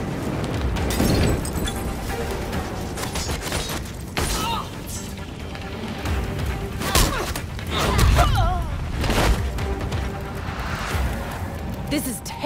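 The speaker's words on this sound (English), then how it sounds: "Enjoying the fireworks." Repeated booming bursts and crackling pops of fireworks go off throughout in the PS5 game Gotham Knights, loud and continuous, with a voice speaking intermittently underneath.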